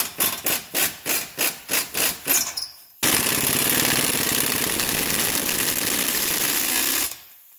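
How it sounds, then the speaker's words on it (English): A rusty ball joint bolt is run through a Nissan Rogue spindle to grind away crud, first as a series of about ten rhythmic rasping strokes, then as one loud continuous grinding burst that stops abruptly. "I was running the bolt freely just so I could get some of the rust and crud that's binding the bolt up inside of the spindle ground away."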